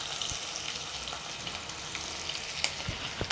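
Onions and spices sautéing in a pan for a small home-cooked chicken biryani, a steady soft sizzle with a few brief stirring clicks and scrapes, quiet and close, no talking.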